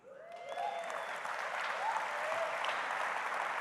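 An audience applauds the speaker's wife, steady crowd clapping that rises quickly and holds evenly at a moderate level, with a faint whoop or two over it.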